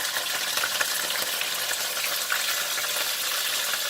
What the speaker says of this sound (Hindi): तकरीबन हरे प्याज को 1-2 मिनट जो है ना इसको भूनें, क्योंकि ये फ्रोज़न है।